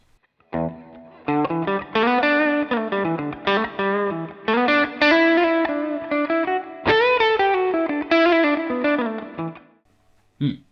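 Electric guitar with overdrive and reverb and no delay plays a series of sustained chords and short phrases with brief gaps, loud and close, each strum ringing out into a smooth reverb tail.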